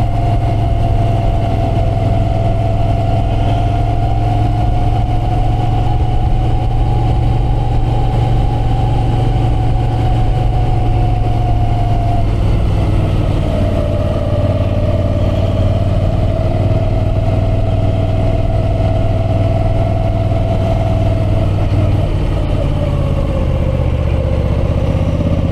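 A motorcycle engine held at moderate revs during a running-in ride up toward the Plateau des Glières, a continuous steady drone with a faint pitch shift midway and no talk.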